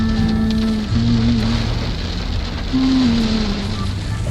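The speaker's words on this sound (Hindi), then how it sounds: "ये आप देख सकते हैं मुसलसल बारिश चल रही थी" Heavy, continuous rain falls during a road trip, a dense, steady hiss of drops drumming on the vehicle. Low engine and road rumble sits beneath it and no one speaks.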